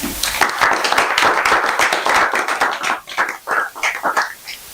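A seminar audience applauding after a talk on patient safety and sickle cell awareness, a dense burst of many hands clapping nearby that thins into scattered claps toward the end.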